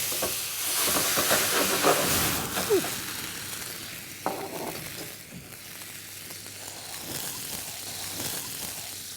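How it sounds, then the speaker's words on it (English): Mushrooms cook in butter in a pan with a steady hiss and sizzle, broken by a few clinks and scrapes of stirring, going on throughout without talk. "So we're going to add our mushrooms into the same pan."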